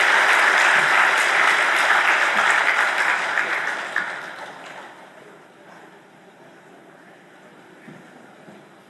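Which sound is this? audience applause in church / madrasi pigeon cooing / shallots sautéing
audience applause in church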